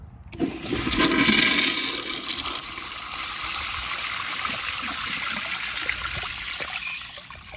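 A 2000 American Standard Colony toilet on a flushometer flushes with a loud, forceful rush of water that settles into a steady, softer gurgling refill.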